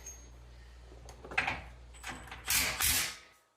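A hand socket ratchet, 22 mm or 7/8 in, works the front differential mount spacer bolts while a lift kit goes into a 2019 Toyota Tacoma, giving a few close mechanical clicks and rattling bursts over a low background hum.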